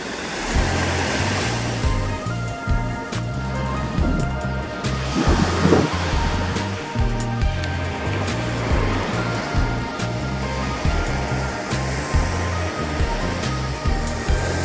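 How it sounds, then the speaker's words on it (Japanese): Sea of Japan surf on an autumn morning, waves breaking with a continuous roaring wash that swells and recedes in a steady rhythm, fairly close and loud, with no voices. "待てばインサイドで割れる良質な波がこっちには、良質なうねりがこっちには入ってますね。"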